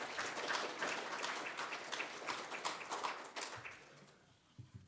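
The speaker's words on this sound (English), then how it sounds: "So please give him a round of applause and praise God for him" Church congregation applauding a visiting preacher as he comes forward: dense, lively clapping fills the room, then thins out and fades toward the end.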